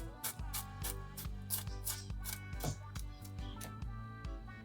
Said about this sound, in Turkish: soğanların en orta kısmını dolma içi için küçük küçük doğruyoruz yemeklik biçimde